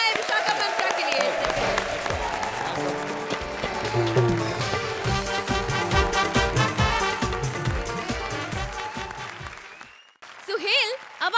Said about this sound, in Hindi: जोरदार तालियां हो जाए विशाखा मंत्रा के लिए।